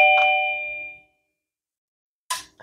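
Daytech wireless door chime triggered by an opened door contact: a single bright ding rings close and decays over about a second, then silence, followed by a brief clatter near the end.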